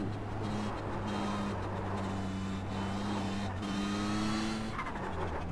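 Kamel GT race car in iRacing on the Nordschleife, its engine droning with steady harmonic whine that shifts pitch as the car accelerates and changes gear, close and continuous with no talk.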